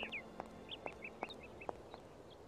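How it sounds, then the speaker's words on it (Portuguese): Birds chirping in the video game Syberia: a faint series of short, bright tweets repeating at a quick, uneven pace over a quiet background hum. "Os passarinhos."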